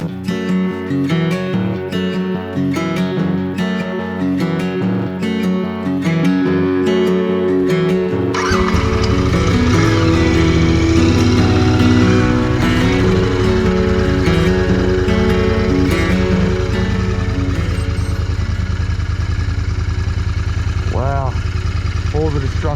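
Royal Enfield Interceptor 650 motorcycle engine droning steadily through a ride on a brisk day in the Blue Mountains, loud and continuous with wind rush, music playing over the first part.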